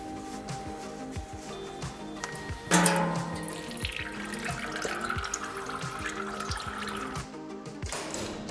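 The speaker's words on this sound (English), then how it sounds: "we can now drain the oil" Transmission oil drains from a drain plug on a Getrag DCT450 dual-clutch gearbox, a steady quiet trickle and patter of liquid with faint drips, heard alone at close range.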